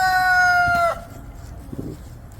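A rooster crowing close by on a rural property, one loud drawn-out crow that breaks off abruptly, followed by faint clucking and low background noise.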